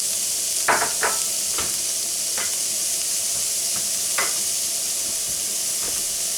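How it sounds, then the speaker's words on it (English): Onions, peppers and salt sautéing in butter in a pan, a steady close sizzle with a few soft scraping stirs dropping in at intervals. "I added a little bit of butter here to my pan, and I did that because I want to caramelize these onions first"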